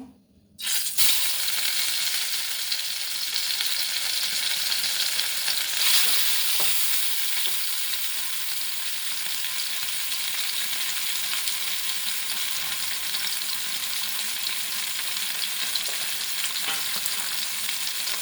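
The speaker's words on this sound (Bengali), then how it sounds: "বেশি কড়াও করবো না, মাঝারিভাবে মাছটা ভাজবো" Fish frying in hot mustard oil in a frying pan: after a brief quiet moment, a loud, dense, steady sizzle bursts up and holds evenly throughout, close by, with faint rattles and no talking.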